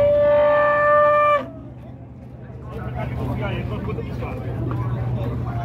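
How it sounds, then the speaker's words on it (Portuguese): A loud, long moo from a cow sounds close by at a livestock fair in Dois Riachos, Alagoas, then fades into a murmur of crowd chatter and a low engine rumble. "Bastante gado da feira."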